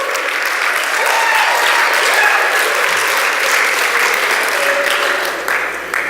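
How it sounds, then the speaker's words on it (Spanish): A church congregation applauds loudly during a bilingual Spanish-English sermon, a dense, sustained wash of clapping with faint voices and cheers mixed in, tapering slightly at the end. "dale un aplauso al Padre"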